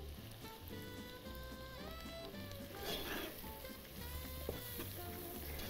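Onions sizzling and frying steadily in a pan for Kashmiri kofta, with a constant crackling hiss and faint background music running throughout.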